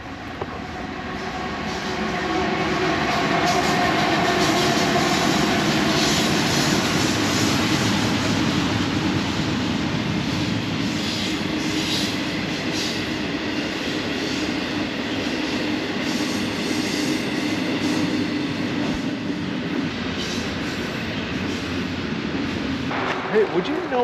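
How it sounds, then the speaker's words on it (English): A freight train rolls past along a wooded railroad line, a broad continuous rumble and rattle of wagons that builds within the first few seconds and holds steady, with people talking faintly underneath. "Oh, we have a train coming."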